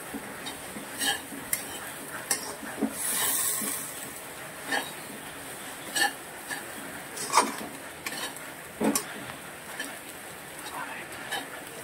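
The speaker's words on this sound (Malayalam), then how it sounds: "നമ്മൾ ഇളക്കി ഇത് മൂക്കുന്ന വരെ നമ്മൾ ഇളക്കിക്കൊണ്ടിരിക്കണം" Clam meat for a Kerala-style kakka fry is stirred in a pan, the utensil scraping and clicking in short irregular taps over a soft background hiss, with faint voice traces.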